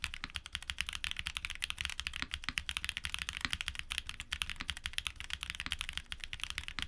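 TTC Iron mechanical keyboard switches typed on without pause, producing a dense, even stream of crisp close clacks with no speech.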